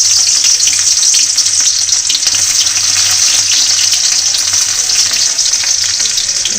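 Onion frying in a hot kadhai, a loud, continuous close sizzle and crackle with steady stirring and no voices.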